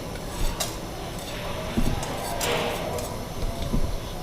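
Cumin and fennel seeds dry-roasting in a pan on a lit stove, stirred with a metal utensil that makes soft scraping and occasional clinks against the pan, close and moderately loud with faint sizzle underneath.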